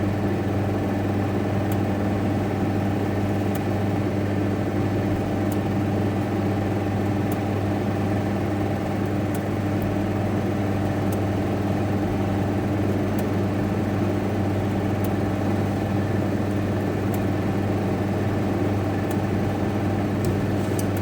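Trucks rolling along the M9 motorway near the Kelpies in Scotland, heard as a steady low engine and road drone from inside a vehicle, continuous and unbroken without talk.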